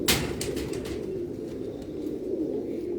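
Ali breed pigeons coo in a low, steady, throaty murmur that carries on without a break. A brief flutter of higher sounds comes at the start.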